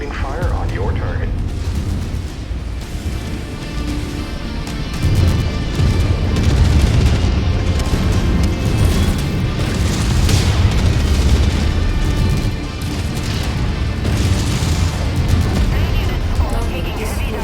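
Heavy mech weapons and explosions roar through a MechWarrior 5: Mercenaries battle, with loud, continuous booms and blasts layered over a dense low rumble and surging bursts throughout, while game voice lines sound underneath.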